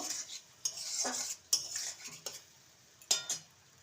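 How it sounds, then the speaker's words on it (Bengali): A metal spoon scrapes and clinks against a pan as chili brinjal is stirred with Kashmiri chili powder: four or five distinct, close strokes separated by short quiet gaps. "কালারের জন্য কাশ্মীরি লঙ্কার গুঁড়ো ভালো করে"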